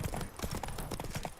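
Steady horse hooves clip-clopping in a video game, a close, continuous trotting rhythm over a low backing bed, with no voices.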